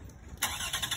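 A car engine cranks and catches in about a second, a sudden close burst of engine noise following a quiet moment.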